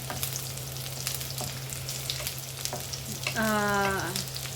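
Garlic sizzling in hot oil in a pan, a steady frying hiss close by, with a few light clinks of a utensil and a brief sliding tone near the end.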